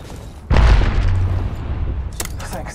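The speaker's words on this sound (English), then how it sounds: "Grenade!" A grenade goes off in the Apex Legends shooter, a single loud booming blast with a heavy low thump that decays over about a second and a half, followed by a few sharper cracks.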